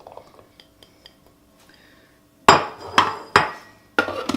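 Chickpeas go into a hummus mixture with four sharp, close clattering thuds against the bowl, each fading quickly, after a stretch of faint light clinks.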